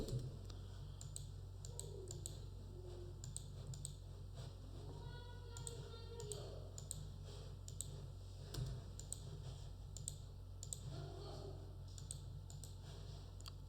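Quiet keyboard typing on a computer while entering alt text in an Excel chart, with scattered soft key clicks in irregular bursts over a low steady hum.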